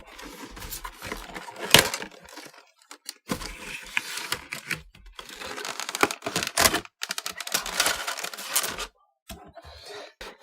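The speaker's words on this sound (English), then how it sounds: "this box is not sealed at all, so we don't have to cut anything. It's a pretty thick cardboard." A thick cardboard box holding an action figure being opened by hand, with close scraping, tapping and flap-rustling sounds coming in irregular bursts, parts rattling loosely and brief quiet gaps between them.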